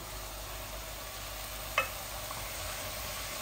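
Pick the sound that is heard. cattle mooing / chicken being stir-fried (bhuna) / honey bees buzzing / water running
chicken being stir-fried (bhuna)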